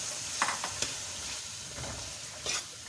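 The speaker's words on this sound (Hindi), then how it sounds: "थोड़ा सा भूनने के बाद अब मटर डालेंगे।" Peas for aloo matar sizzle and fry in a pan, with a steady hiss and a few scraping stirs over about three seconds.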